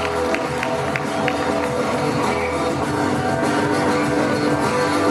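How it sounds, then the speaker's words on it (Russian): Crowd at an awards ceremony of a geek convention, a sustained wash of applause and cheering that stays steady and fairly loud throughout, with scattered claps and shouts standing out from the dense roar. "Давайте аплодисменты «Люмен»."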